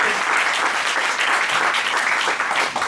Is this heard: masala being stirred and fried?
no